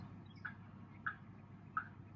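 A wild turkey gobbles three times at a distance, faint and evenly spaced, over a steady outdoor background hum.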